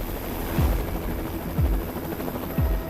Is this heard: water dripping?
no